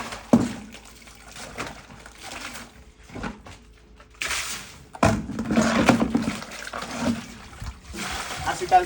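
Running water splashes and trickles over a sponge being rinsed after a dog's bath, in uneven bursts that stop and restart, close by, with some voice in the background.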